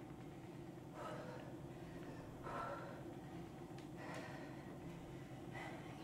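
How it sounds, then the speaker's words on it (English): Heavy, uneven breaths and gasps come during a one-leg sumo-style exercise on a PowerBoard, recurring every second or so, fairly close but quiet over a low hum. "Can you hear me breathing?"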